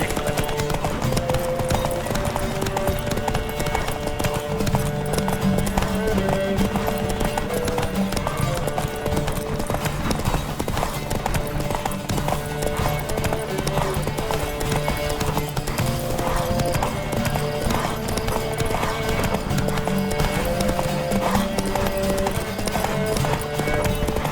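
Rapid, rhythmic hoofbeats of a galloping horse in a Witcher 3: Wild Hunt horse race pound steadily over the game's music score, with an occasional whinny.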